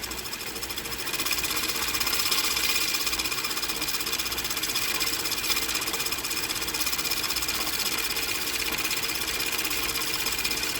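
Sewing machine winding a bobbin, a steady fast mechanical whirring buzz with an even rattling texture, running continuously at close range without a break and no voices over it.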